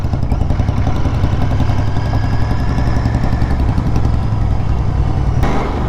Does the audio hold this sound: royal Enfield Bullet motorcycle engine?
yes